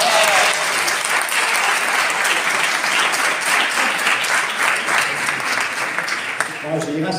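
An audience at a talk gives sustained, dense applause, loud and continuous throughout, thinning slightly at the end as a voice starts to speak.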